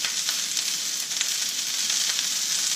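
Peppers sizzle and fry steadily in a very hot frying pan for chicken fried rice, a loud continuous hiss with no talking.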